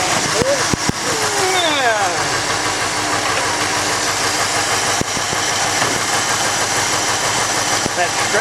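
A 1951 Ford engine runs at a steady idle with a scrubbing noise, a constant broadband rumble with brief clicks, as someone talks over it.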